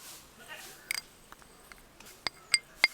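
A spoon scoops instant coffee powder and sugar into a bowl, giving a few small, close metallic taps and clinks against the rim under a soft voice.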